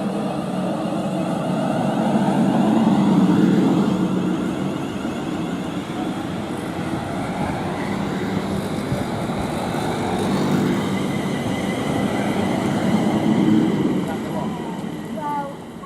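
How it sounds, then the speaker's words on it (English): Train 35266 departs Tamworth station on the West Coast Main Line, bound from Crewe to London Euston. Its broad mechanical rumble swells, eases and builds again, and a voice talks over it. "now departing, which I didn't get coming in because of the cross country, is 35266, heading from Crewe to London Euston"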